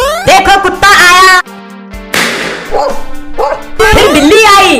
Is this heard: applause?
no